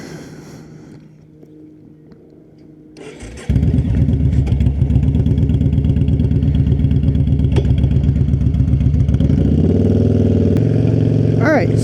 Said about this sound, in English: This is my 2014 Yamaha Bolt. We're going to go take it for a ride.